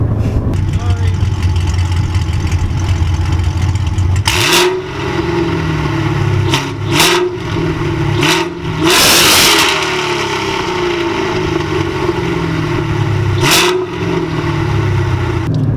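A 2016 Chevrolet Camaro SS V8 idles close by with a deep exhaust rumble, then is revved several times in short, sharp bursts before dropping back to idle.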